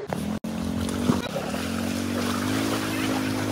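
Water rushes in a steady broadband roar at a waterfall, continuous and fairly close, with a low tonal hum running underneath and a brief dropout near the start.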